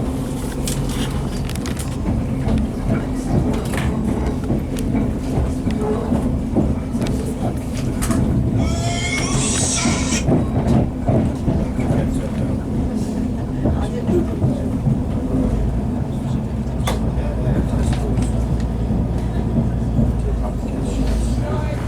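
Train crossing back over the River Tyne near Newcastle, a continuous low rumble and rhythmic wheel clatter heard from inside the carriage, with a brief hiss partway through.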